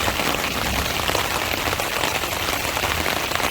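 Heavy rain drums steadily on a tarp over a campsite, a dense, continuous close-up patter with no pauses and no voices.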